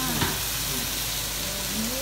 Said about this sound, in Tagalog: Giniling? Igigisa ko lang din.